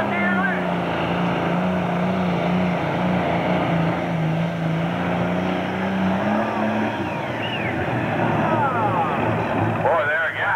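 A modified John Deere tractor pulling at a tractor pull event gives a loud, sustained engine drone that holds steady for about seven seconds before easing off, with crowd noise and an announcer's voice layered on top.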